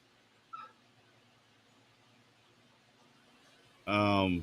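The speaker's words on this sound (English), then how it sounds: "my dog is losing their mind for some reason" A dog gives a short yelp early on, then after a quiet stretch breaks into a loud, close burst of barking and whimpering at the end.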